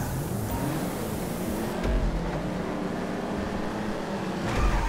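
A race car in the video game GTA V drones continuously at high revs, with engine tone shifting through gear changes and acceleration, loud and steady throughout.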